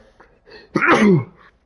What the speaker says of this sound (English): I'm going to sneeze, obviously, again, as I always do.